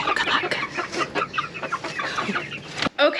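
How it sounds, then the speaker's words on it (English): Backyard chickens, among them a Jersey Giant, cluck repeatedly inside their coop, close and fairly loud in uneven bursts, with a short sharp knock near the end. "The chickens are in there."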